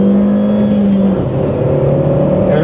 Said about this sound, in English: Oh, hit the rev limiter.